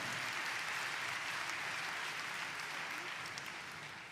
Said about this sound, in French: un petit peu d'encouragement, un petit peu d'applaudissements